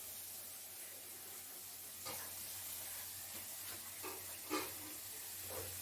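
Water left from rinsing a spice bowl hits hot oil in a pan where fish is being cooked, giving a faint, steady sizzle with a few brief louder bursts and clinks, heard from nearby.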